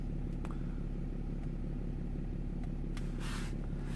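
A BMW 730d diesel engine idles steadily at low revs, a constant low rumble heard close up and alone, with a few faint clicks and a brief hiss near the end.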